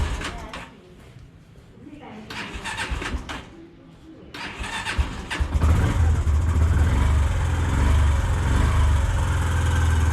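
A Yamaha YBR motorcycle engine cold-starts after a few seconds of cranking attempts, then settles into a loud, steady idle that continues to the end, with voices talking over the early part.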